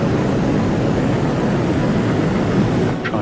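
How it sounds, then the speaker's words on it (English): Rocket engines in Kerbal Space Program 2 roar loud and continuous during a land speed record run, a dense, steady rushing drone that barely changes. A faint rising whine appears near the end. "Ignite the engines"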